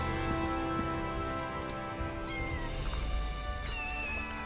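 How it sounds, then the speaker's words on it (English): Tifa's cat Fluffy meows in Final Fantasy 7 Rebirth, a few short in-game cat calls over a steady layer of background music, with no talking. "Oh, it's Tifa's cat."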